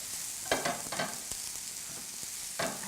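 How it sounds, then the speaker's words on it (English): Zucchini noodles and onions sauté in a hot pan, a soft constant sizzle broken by several scraping stirs and light clacks of a utensil against the pan. "just dump those zoodles right in with the onions. And we're just gonna saute these until they get kind of soft"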